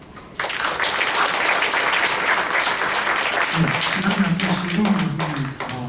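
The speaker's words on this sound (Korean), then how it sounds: "다시 한번 큰 박수로 부탁드리겠습니다." An audience applauds at the close of a talk in a university seminar on teaching innovation. The steady, dense clapping fills the room, and a voice begins speaking over it partway through.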